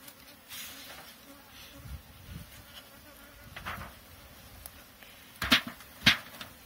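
Honey bees buzz faintly around a hive while being fed sugar water, with a low drone and a few louder passes of individual bees close by near the end.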